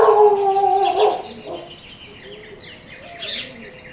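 A dog howls loudly and close at first, a long wavering wail that fades into softer, higher whines and yelps, heard alone with no talking.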